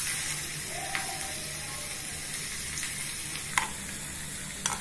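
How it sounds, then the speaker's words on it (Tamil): Crushed garlic and mustard seeds fry in hot oil in a small pan, giving a steady, close sizzle with a few light pops and clicks scattered through it. "இப்போ நசக்கின பூண்டை எடுத்து இதுல போட்டுடலாம்"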